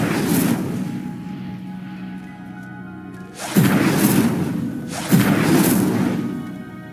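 A fire spell cast in Hogwarts Legacy: a sustained roaring rumble followed by two loud whooshing bursts, each swelling sharply then fading, with no talk.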